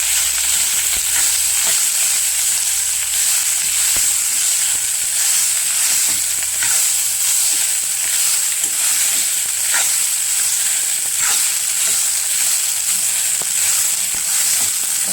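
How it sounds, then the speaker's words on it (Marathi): Cooked rice for chitranna being turned in a hot pan, a continuous close hiss of frying with soft scraping stirs every few seconds and no speech. "हा जो भात आहे आपला शिजवलेला, तो त्याला व्यवस्थित हलवून घ्यायचं."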